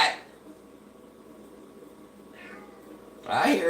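A cat meows at close range, a short call at the start and a louder, drawn-out meow at the end, with quiet room noise between.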